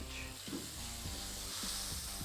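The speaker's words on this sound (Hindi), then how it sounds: "ये लीजिए, तड़का हो गया तैयार, और तड़का मैं इसमें शामिल कर रहा हूँ दाल के ऊपर" Garlic tadka sizzles as it is poured over dal, giving a soft, steady hiss of frying oil throughout, with no speech.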